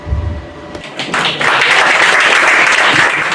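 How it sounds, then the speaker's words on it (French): Audience applauding a contestant at a Miss and Mister election pageant, clapping swelling after a brief lull into a loud, sustained burst from the crowd. "On applaudit la candidate numéro 5"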